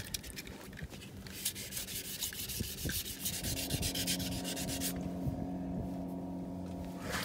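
Steady, rhythmic hand sanding with wet-dry paper scrapes back and forth across hard gel coat, close up, with no talking.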